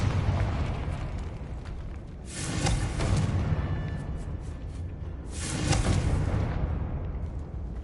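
Two heavy, rumbling blasts of the Confringo fire spell in Hogwarts Legacy, each a loud booming burst with a rolling tail, a few seconds apart over a dull background roar.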